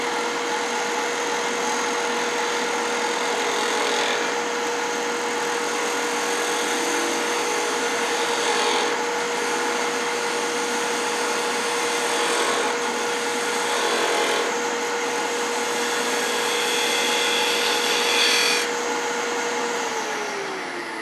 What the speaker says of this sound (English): I'll switch to a regular 3/8 inch gouge. And just ease in there real slow.